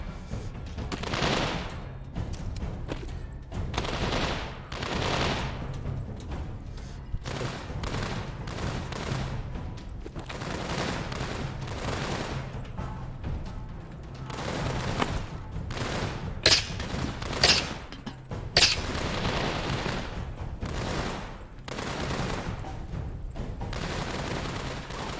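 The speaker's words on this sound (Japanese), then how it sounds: "銃声。" Rapid bursts of gunfire fill a zombie-survival VR game, Walking Dead Saints & Sinners, with dense volleys and booming shots repeating loudly and steadily, a few sharper cracks standing out near the end.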